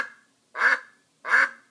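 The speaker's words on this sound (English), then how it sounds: "This is what ducks sound like." A smart speaker plays two loud, clear duck quacks about three-quarters of a second apart, each with a bright nasal tone, with silence around them and no talking.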